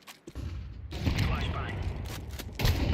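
A flashbang grenade goes off during a Counter-Strike 2 match, a loud burst among gunfire and in-game chatter, followed by dense overlapping shots and voices through the short stretch.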